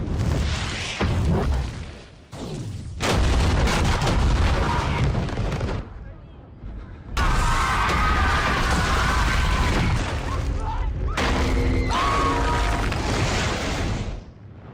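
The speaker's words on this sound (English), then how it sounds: "Cersei allows herself the faintest smile as she watches the explosion ripple across the city." A massive explosion rips across a city, heavy booming blasts and crashing rumble surging in several loud bursts with short gaps, dense and close, with no talking.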